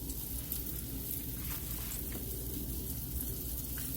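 Potato cakes frying in a pan on a stove give a steady, continuous sizzle with faint crackles throughout, close and even in level, no voices.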